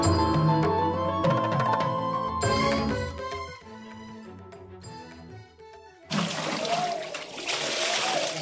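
Water at the Nazhikinaru well at Tiruchendur splashes and pours in bursts as people bathe there, with trickling and a loud gush of falling water near the end, close and irregular.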